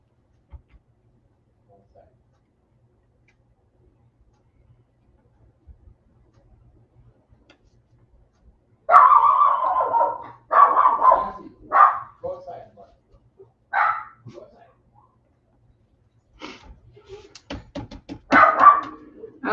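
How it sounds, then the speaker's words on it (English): A small dog barks in several sharp bursts and yips, close by and fairly loud, arriving after a quiet stretch indoors during a craft build. "That is my little Sassy dog who definitely lives up to her name"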